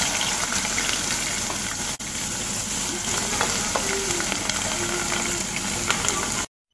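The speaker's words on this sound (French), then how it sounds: "on va faire frire les pommes de terre" Potato pieces sizzle in hot oil in a pan for a Senegalese lamb chop and parsley potato dish, a loud, steady crackling hiss with scattered pops, briefly interrupted once, then cutting off abruptly.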